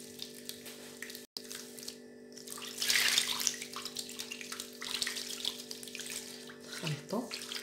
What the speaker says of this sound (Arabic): غادي ناخذو شويه الماء،